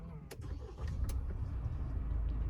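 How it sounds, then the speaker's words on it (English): A Mahindra Thar Roxx SUV engine starting from inside the cabin, a few quick clicks and a short crank followed by a low, steady idle rumble, close and moderately loud. "Let me start the vehicle."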